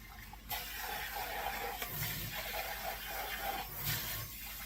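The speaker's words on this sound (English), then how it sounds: "I am going to rinse this one out thoroughly" Tap water running steadily to rinse out a measuring cup in a home kitchen, a soft continuous hiss and splash with faint clunks of the cup, no talking.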